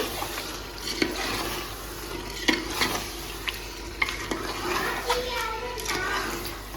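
Chicken stirring and sizzling in a pot for a Sunday home meal, a steady fry hiss with scraping stir strokes and soft clatters, children's voices audible in the background.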